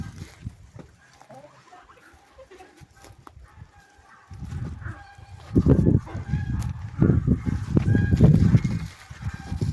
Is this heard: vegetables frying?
no